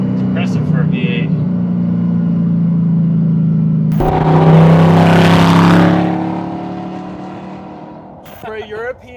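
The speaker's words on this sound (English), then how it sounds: "For a European V8, it sounds kind of muscly" A gated Audi R8 V8 with a near-8,000 rpm redline revs hard while driving, a deep muscular engine drone that swells into a loud surge midway and then eases off, heard from inside the car.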